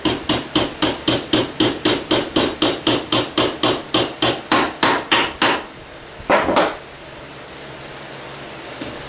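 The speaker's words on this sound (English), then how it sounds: "attach it with a small nail with a head on it." Small headed nail driven into a wooden birdhouse with a steady run of about twenty loud, evenly paced hammer blows, then a brief scrape and a quiet tail with no talking.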